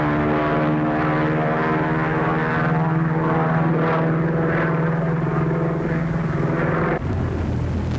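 A 1930s propeller airplane engine drones loudly and steadily from close by, with a rich, buzzing hum that shifts abruptly in tone near the end; no one speaks.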